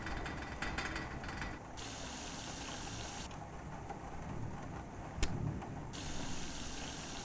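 Hot water runs steadily in the horror game Don't Knock Twice, a continuous broadband hiss at an even level with no voices, briefly shifting in tone a few times.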